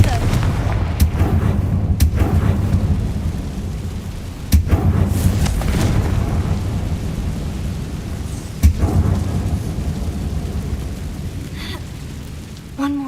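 A Confringo fire spell is cast in Hogwarts Legacy, a booming blast with rumbling low-end crackle that rolls on over several seconds, punctuated by sharper impacts, loud and dense throughout.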